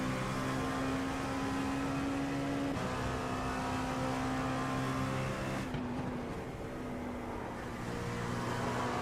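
An LMP2 prototype race car in iRacing howls at full throttle through an IMSA endurance race, its steady high engine tone shifting pitch at gear changes, loud and continuous with no talk.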